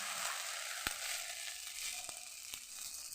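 Chitoi pitha batter with coriander and green chilli sizzling in a hot oiled karahi, a soft, fairly quiet hiss punctuated by several sharp clicks and taps of a spoon against the pan.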